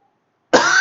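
A man gives one loud, harsh cough close to the microphone; it bursts out suddenly after near silence and trails off briefly.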